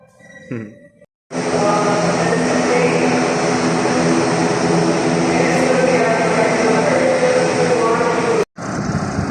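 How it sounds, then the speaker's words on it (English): Air Serbia ATR turboprop airliner, a loud, steady engine drone and propeller roar that holds unbroken for about seven seconds, cuts off abruptly, then resumes. "Well, as you can see, Air Serbia, this is an ATR, I guess."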